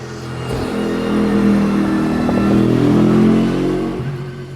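A big, wide, flat Le Mans race car roars through the top of the Corkscrew, its loud engine drone steady and close for a few seconds with a slight pitch shift as it passes.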